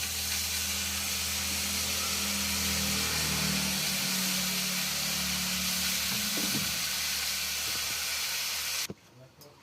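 Squash tempered with fenugreek and nigella seeds in hot oil gives a steady hiss and sizzle close up, with some low background hum, cutting off abruptly near the end.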